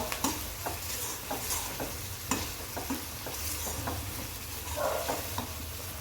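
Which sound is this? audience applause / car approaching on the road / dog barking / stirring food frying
stirring food frying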